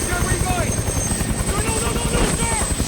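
Helicopter idling or running on a rooftop helipad, a steady low rotor thrum with a whining turbine tone throughout, loud and close, under a background voice.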